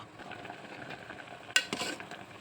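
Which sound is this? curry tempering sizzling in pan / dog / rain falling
curry tempering sizzling in pan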